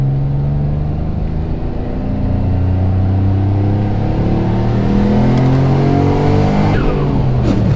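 Built twin-turbo Mitsubishi 3000GT engine pulling hard, a loud close roar climbing steadily in pitch through the revs before a sharp shift near the end.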